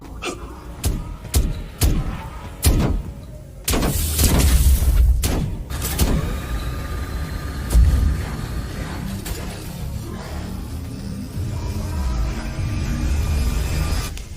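A strange booming explosion in Cold War Zombies on the Die Maschine map, near the dark ether, comes in after a few sharp hits and swells into a sustained rumbling roar with whooshing texture.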